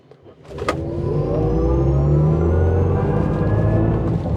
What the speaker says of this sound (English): So you have the sound effects that accompany, of course, the wide open watts launch mode.